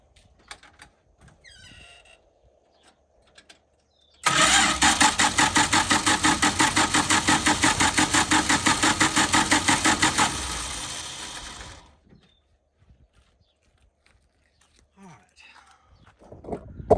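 A 1976 Dodge D-300 flatbed dump truck engine cranks over with a loud, rapid rhythmic chugging for about six seconds, then the starter cuts off and it falls quiet, with people talking softly around it.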